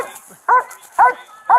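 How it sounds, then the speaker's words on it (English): Dog barking in three short, sharp, fairly close barks spaced about half a second apart, with a quiet background between them. "The dog is really annoying me right now."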